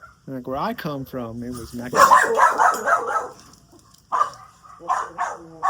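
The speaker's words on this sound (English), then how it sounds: "Excuse the dogs. They do that." Several dogs in Jamaica bark and yelp in quick repeated bursts that bunch together into overlapping barking, heard moderately close, while someone talks over and between the barks.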